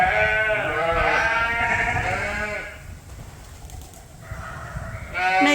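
Sheep bleat loudly in a straw-bedded pen, with several long, wavering cries close by, a brief quiet gap, then another bleat near the end.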